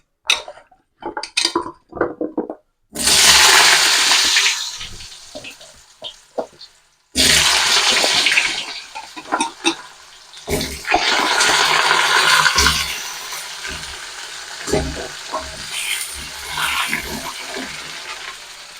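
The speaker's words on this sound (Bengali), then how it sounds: "এবার এই তেলের মধ্যে প্রথমে আমি আলুগুলোকে ভেজে নেবো।" Potatoes hit hot oil for a Bengali vegetarian raw-banana and pea-lentil dish, bursting into loud close sizzling after a few clinks of utensils, then frying in long hissing bursts with pan scrapes and knocks in between.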